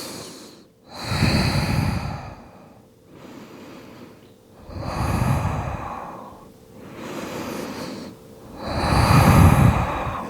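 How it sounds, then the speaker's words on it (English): A person in child's pose during yoga takes three slow, deep breaths, each a long, close, audible inhale-exhale with a soft sighing rush, separated by short quiet pauses. "We'll just take 3 rounds of breath."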